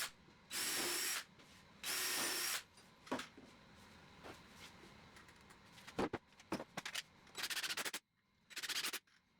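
A power drill drives screws into 2x4 lumber, with two long loud whirring bursts early on, then several short stuttering pulses and a final burst, with small knocks in between and no talking.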